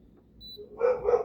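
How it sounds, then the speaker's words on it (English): A couple of sharp dog barks close by in a home kitchen, loud and quick, following a faint quiet stretch. "Sorry about my dogs."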